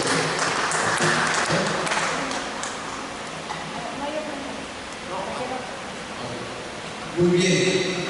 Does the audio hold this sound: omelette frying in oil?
no